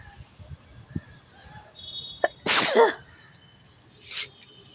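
Two sharp, loud sneezes about a second and a half apart, the first stronger and drawn out, heard close up on a quiet rooftop with faint background noise and no talking.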